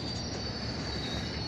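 Loud, continuous squeal of train wheels over a dense rumbling roar as a train comes in close at Barking station.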